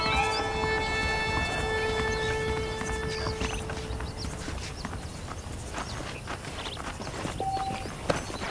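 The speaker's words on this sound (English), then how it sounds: "The horses are saddled up over here." Horses' hooves clip-clop at a walking pace in the Red Dead Redemption game, moderately close and steady beneath ambient outdoor sound, with a brief whistle-like tone partway through.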